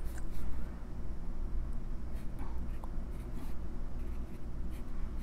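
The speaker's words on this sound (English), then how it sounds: "now I'm going to write a new sentence" A Lamy fountain pen nib scratches across paper, writing a sentence in a quiet, close, continuous scritch with small strokes and pauses throughout.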